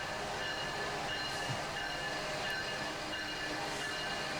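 A freight train of hoppers and boxcars rolls past at dusk, a steady broadband rumble of railcars with faint wheel squeal, continuous and moderately distant with no talk.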